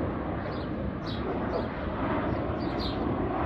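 A Southwest Airlines plane arriving at Midway from DCA, a steady broadband jet roar heard from outdoors with faint bird chirps above it.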